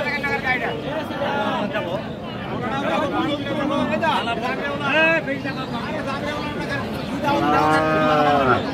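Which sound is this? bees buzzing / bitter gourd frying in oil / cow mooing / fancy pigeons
cow mooing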